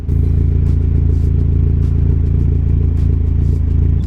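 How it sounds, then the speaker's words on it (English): A Honda Civic idles with a MagnaFlow muffler fitted, producing a steady, low, even exhaust burble with a soft rhythmic pulse, close by and continuous, with no talking over it. "right now we have a MagnaFlow muffler on this thing, so it's actually really quiet."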